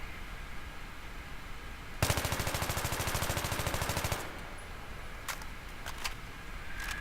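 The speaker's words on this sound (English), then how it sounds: "this is the way the gun shoots with the foregrip" AEK-971 rifle with a foregrip fired in Battlefield 3: one sustained full-auto burst of about two seconds with rapid, evenly spaced shots, loud and close, then sparse faint clicks and ambient noise.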